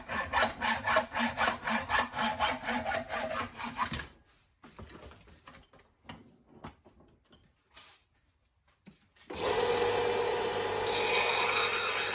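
Rhythmic back-and-forth strokes of a hand saw or file cut through a steel part for a Ford Focus twin-turbo V8 project car, then pause with scattered clatter before a loud continuous grinding noise takes over.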